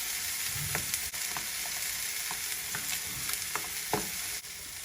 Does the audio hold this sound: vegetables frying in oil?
yes